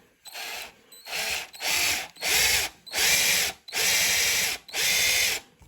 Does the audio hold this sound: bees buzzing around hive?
no